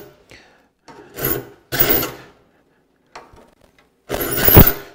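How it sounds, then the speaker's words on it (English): A file sharpens the teeth of a rip hand saw in several short, rasping strokes of uneven length, separated by quiet pauses. "I can come back and put a little pressure this way to file the back of that tooth."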